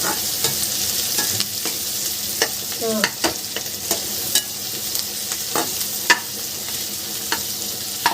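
Garlic and onion fry together in a pan for a Bengali-style egg biryani, giving a constant close hiss. Spoon scrapes and taps recur through it as the mix is stirred, with no one speaking.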